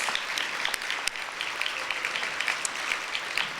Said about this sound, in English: I'd like to do a round of applause for a Diamond alum that we are really proud of.